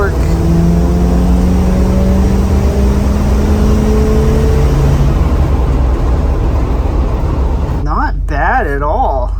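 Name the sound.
Ford E-350 Econoline van engine revving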